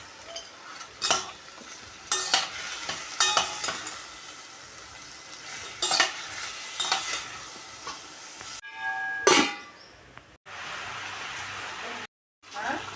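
Chinta chiguru mushroom curry with tomatoes and pink salt sizzles in a pan as a spoon stirs in rough bursts of scraping, close and fairly loud; near the end a voice speaks briefly and the sound cuts out.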